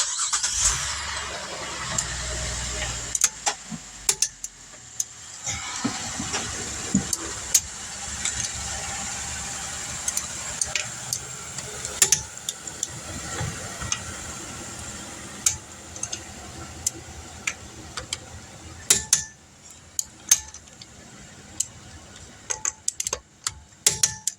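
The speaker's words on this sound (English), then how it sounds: "All right, torque that tire down." A torque wrench tightens the wheel lug nuts on a 2010 Buick Enclave during brake and rotor work, with sharp clicks and ratcheting taps scattered over a quiet garage background.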